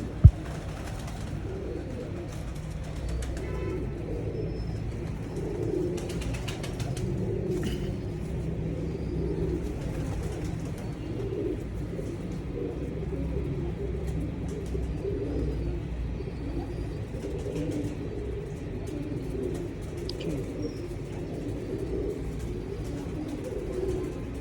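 Pigeons coo softly and steadily across a quiet outdoor setting with low background rumble, joined by a few faint chirps.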